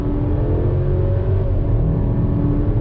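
2020 Cadillac XT4 luxury crossover SUV with a 9-speed transmission accelerating after a U-turn, a steady low engine drone and road rumble heard from inside the cabin.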